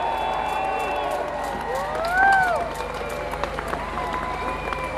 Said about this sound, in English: So give them a huge cheer.